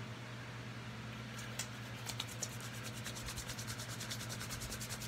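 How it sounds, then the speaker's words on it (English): Post-shave balm being rubbed between the palms after a straight razor shave, a soft, close, steady swishing friction over a low background hum. "Rub it together, warm it up."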